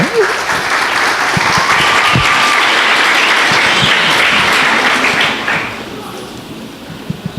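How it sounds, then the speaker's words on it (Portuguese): Audience applause at a Brazilian church talk event, a dense, steady wash of many hands clapping that carries on for several seconds, then thins and fades toward the end. "Eu acho que eles merecem, assim, umas palmas."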